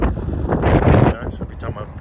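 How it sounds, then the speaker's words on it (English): Strong wind buffets an outdoor microphone in a loud, rumbling rush that swells and then eases, with a person's voice partly under it. "Every time I record a video, it wants to be windy."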